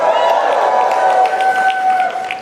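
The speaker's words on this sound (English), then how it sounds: "I'm not used to hearing applause when I walk out onto the stage" Audience applause fills a large hall as a speaker walks onto the stage, a steady dense wash of clapping and crowd noise that fades slightly at the end.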